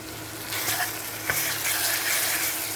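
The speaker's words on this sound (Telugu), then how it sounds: "పచ్చిమిర్చితో పాటు అల్లం వెల్లిపాయ కూడా వేగుతుంది" Ginger garlic paste and green chillies fry in a pan for a spinach and fenugreek dish, a close steady sizzle that starts sharply and carries one brief clack partway through, with no talking.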